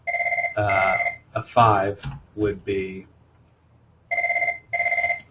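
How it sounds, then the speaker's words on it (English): A telephone rings in short, regular bursts of bright electronic chiming. A few rings open the clip, someone talks over the pause, and a second pair of rings follows near the end. "sorry for my phone ringing"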